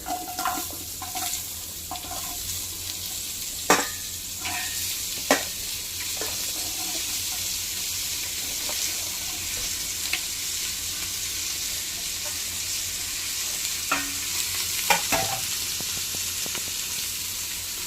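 Vegetables tipped into a pan of frying spiced masala rice and stirred, a steady loud sizzle with scattered scraping clicks of the spoon against the pan, no voices.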